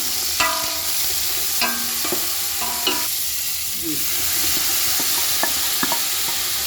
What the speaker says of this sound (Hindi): प्याज जैसे ही ब्राउन हो गए तो हमने इसमें लहसुन अदरक का पेस्ट डाल दिया है